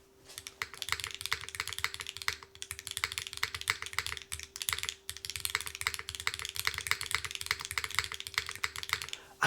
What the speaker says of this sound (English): This kind of sets the tone for the keyboard a little bit better